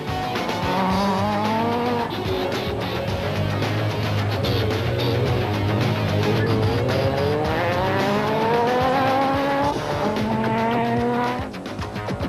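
Rally race cars in the Sun City 400 off-road event drive fast, their engines revving and shifting up through the gears in a loud continuous roar with no break.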